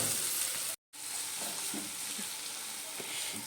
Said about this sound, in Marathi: मसाले आता भाजून घेतला जरा चांगले.